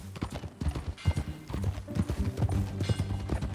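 Horse hooves clip-clop steadily in the Red Dead Redemption 2 video game, with dense repeated hoofbeats, a brief whinny and a low musical ambience underneath.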